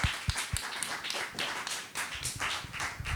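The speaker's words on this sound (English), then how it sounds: "So let's give him a great round of applause for that." An audience claps at the end of a talk on dance and music education, a dense run of sharp overlapping hand claps, close and steady, with no voices.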